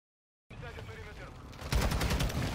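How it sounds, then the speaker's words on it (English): Rapid automatic gunfire from a teammate in a ranked online shooter match, a dense sustained burst that swells louder partway through and rolls on without pause. "Teammate, why are you shooting me?"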